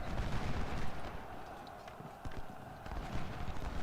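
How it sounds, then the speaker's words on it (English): Musket fire from a Civil War battle in a strategy video game crackles in scattered volleys and pops over a dense, rumbling battlefield din, fairly distant and continuous. "we've got Bruce here now firing into their flank"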